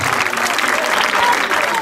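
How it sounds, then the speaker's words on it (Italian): Parish festival audience at a Festa del Ciao breaks into loud, dense applause, steady and sustained with no voices standing out. "Un applauso grande all'equipe della CR"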